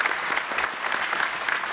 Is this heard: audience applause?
yes